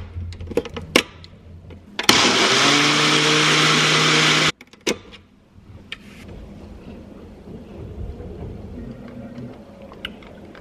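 A blender whirs loud and steady for about two seconds, blending spinach, fruit, yogurt, coconut flakes, chia seeds and mango nectar into a smoothie, framed by close clicks and clatter before and after.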